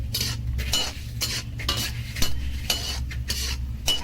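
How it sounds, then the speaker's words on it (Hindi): Pumpkin seeds frying in a pan, a steady soft sizzle punctuated by repeated scrapes and clinks of a spoon stirring against the metal, close and fairly quiet with no talk. "अब डालेंगे इसमें पंपकिन सीड्स, तो ये मैं डाल देती हूँ कद्दू के बीज। अब इनको फ्राई कर लेते हैं अच्छे से।"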